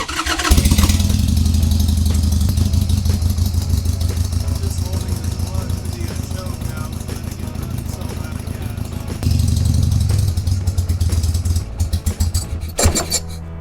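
Harley motorcycle engine idling loud and close with its petcock shut, a rough steady chugging that carries on and then sputters and lurches near the end as the fuel runs out.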